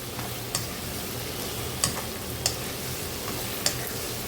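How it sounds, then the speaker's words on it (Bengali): Salted prawns frying in a pan, a dense even sizzle throughout, broken by a few sharp ticks and clinks of a utensil at irregular intervals, no speech. "চিংড়িগুলোকে আমি এখন ভাজবো, 2 পিঠে সুন্দর করে ভেজে নিব।"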